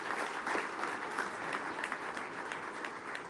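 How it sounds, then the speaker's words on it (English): A large crowd at an Argentine election speech applauds and cheers steadily and loudly, a continuous wash of clapping and voices without pause. "Oh, this crowd's really going now."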